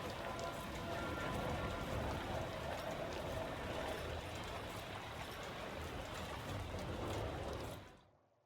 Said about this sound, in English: It's raining again, I hate it.